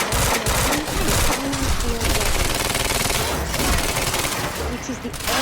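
Gunfire in the Quantum Break game, dense and continuous bursts over a loud busy mix, with voices talking underneath.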